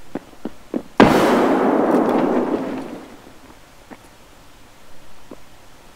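A grenade explosion in a video game, one sudden loud boom after a few small clicks, followed by a long rumbling decay that fades over several seconds, with a few faint taps afterward.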